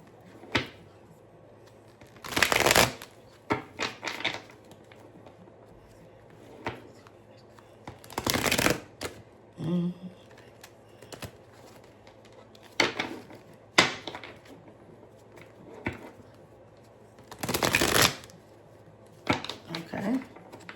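Tarot cards are shuffled by hand in a few loud, rustling bursts, with softer card taps and handling sounds between them and a person talking nearby.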